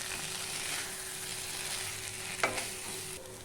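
Bengali spice paste for a green banana kofta curry fries in a pan, a soft, continuous sizzle with a brief scrape of stirring partway through, fairly quiet and close.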